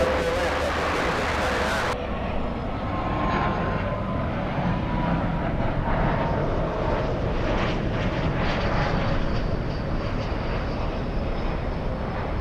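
A Gulfstream jet roars at LAX, a broad, steady engine rumble filling the air with no pause, loud and close throughout.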